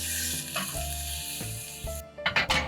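Carrots sautéing with garlic in sesame oil in a pan make a loud, continuous close sizzle over a steady tonal background, with a few sharper stirring clatters toward the end.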